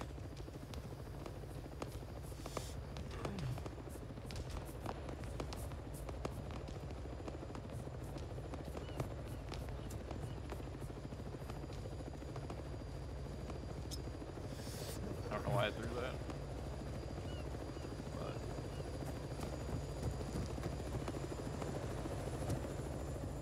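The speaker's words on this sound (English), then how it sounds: "oh my god, that helicopter is gonna die." Helicopter rotor and engine from the Arma 3 military game, a steady loud whirring drone throughout with a brief surge in the middle, while gunfire-like pops and voices come and go underneath.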